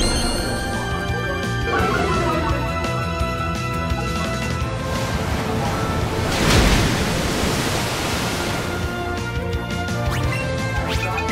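Surf move effect in Pokemon Let's Go, Eevee: a sustained hissing wave rush over game music and chimes, swelling to a crash around the middle before settling, with no talk.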